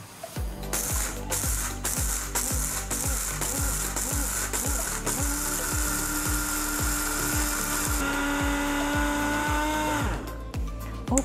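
An Ecohome EFP 333 food processor's dry mill grinds grains at loud, steady volume for about ten seconds, a high motor whine with a rattling, pulsing churn of grains against the blade, then it stops near the end.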